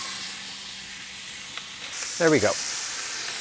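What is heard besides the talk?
ribs sizzling in a pan on a 15,000 BTU burner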